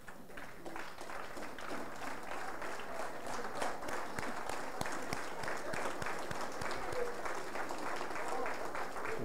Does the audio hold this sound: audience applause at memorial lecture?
yes